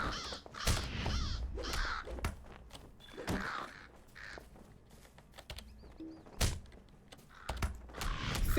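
A crow in the Lord of the Rings Online game caws in several short, loud bursts spread across the clip, with soft ambient game noise between the calls.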